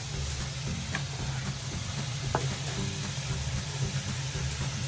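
Wine hisses and sizzles in a hot saucepan of steak sauce, a steady, close frying crackle with faint stirring clicks and no talking.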